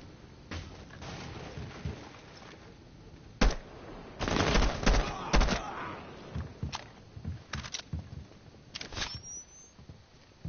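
Rainbow Six match with scattered gunshots and short automatic bursts, some sharp and close, a heavy cluster in the middle, then lighter sporadic shots trailing off.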